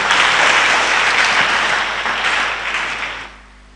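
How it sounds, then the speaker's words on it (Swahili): A church congregation breaks into loud, dense clapping and cheering that holds steady, then tapers off and fades near the end. "Alafu tumpigie Bwana Yesu makofi na vigelegele."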